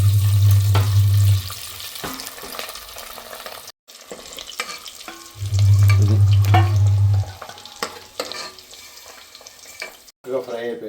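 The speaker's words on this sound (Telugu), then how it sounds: "మంచి కలర్ఫుల్గా వేగిపోతుంది. ఆయిల్లో చక్కగా ఇలా చేసుకోవాలి." Food frying in oil gives a dense crackling sizzle throughout, with stirring scrapes, a loud low hum coming and going, and brief dropouts, all close by and without talk.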